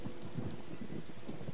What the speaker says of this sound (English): Man, this thunder's pretty intense, huh?